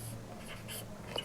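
Pen writing by hand on paper while working a class 10 maths solution, heard as faint, soft scratching strokes over a quiet room for a brief moment.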